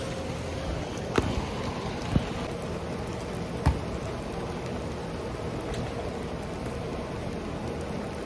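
Steady rain falls throughout during an outdoor basketball session, a dense even hiss, with a few sharp taps or knocks standing out near the start.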